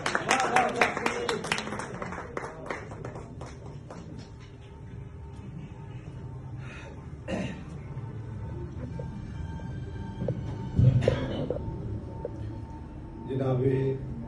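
Scattered audience clapping at a poetry gathering opens loudly and then thins into sparse, fading claps, followed by quieter room sounds and a few later bursts.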